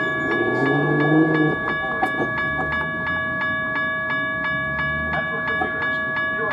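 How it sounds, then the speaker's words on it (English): An outbound Metra commuter train pulls into Arlington Heights station at evening rush hour, its steady horn-like tone and regular rhythmic clacks sounding loud and near. "The next outbound Metra train from Chicago is now arriving at your station."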